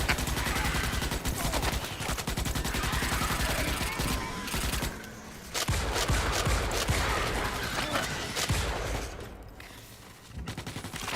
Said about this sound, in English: He's shooting now.